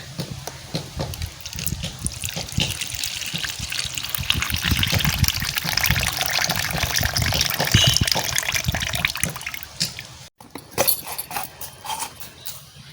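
Coconut water pouring out of a coconut into a container in a home kitchen, a steady close gushing trickle that runs for about ten seconds, then stops abruptly, followed by a few faint splashes.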